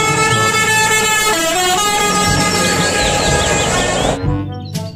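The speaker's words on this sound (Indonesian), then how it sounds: "Yang ini ada mobil bus telolet." A toy telolet bus horn plays a loud, sustained musical honk with shifting tones for about four seconds, then cuts off abruptly, followed by a brief short blast near the end.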